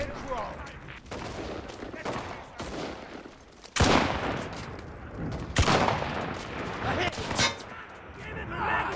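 Rapid bursts of gunfire in the World War II shooter Enlisted, loud close shots and fusillades in dense clusters, with sharp single cracks standing out among the volleys.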